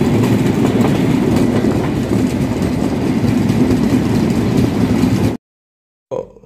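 The Rupsha Express on Bangladesh Railway runs past Jamalganj station, heard from on board as a loud, steady rumble with rhythmic wheel clatter on the rails, before cutting out abruptly.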